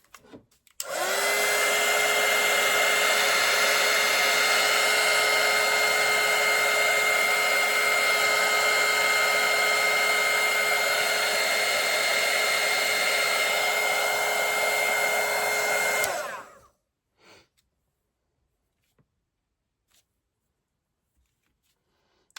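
A hair dryer blows steadily on freshly painted Santa hat artwork, a loud, even whirring drone that runs unbroken for about sixteen seconds before switching off into near silence.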